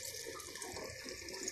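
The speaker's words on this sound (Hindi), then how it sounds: "इतना हम पानी डालेंगे इसमें।" Water poured into a pot of melting sugar while making zarda sweet rice, a steady soft splashing pour that is fairly faint and continuous throughout.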